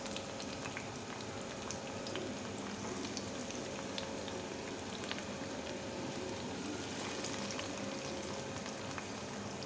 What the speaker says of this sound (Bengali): পেঁয়াজগুলোকে, আর রসুনগুলোও একসাথে দিয়ে দেবো। দিয়ে একটুখানি নেড়ে চেড়ে নেব।